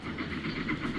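A train runs in Transport Fever 2, a steady rolling rail rumble with soft rhythmic clatter, moderately loud and continuous, with no talk.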